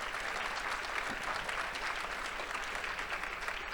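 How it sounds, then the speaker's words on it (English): A conference audience at a closing keynote gives a steady round of applause, dense continuous clapping at moderate level from start to finish with no voices over it. "Let's give them a big round of applause."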